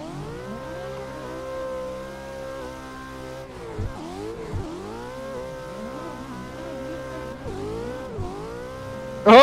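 A Formula Drift Pro car at Long Beach revs hard through its harmonics, the pitch swinging up and down as the tires scrub, ending with a brief sharp burst as the brakes lock up.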